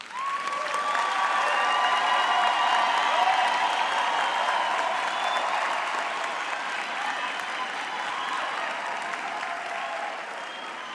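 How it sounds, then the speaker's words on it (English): Sustained applause from a graduation ceremony audience honouring the graduates, dense and steady throughout, with faint crowd murmur beneath. "let us give our graduates a big hand of applause."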